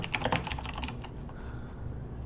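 Typing on a computer keyboard during a web development session, a quick burst of close keystrokes that fades after about a second, leaving quiet room tone.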